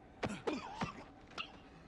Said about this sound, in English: Coughing up straight fucking dirt.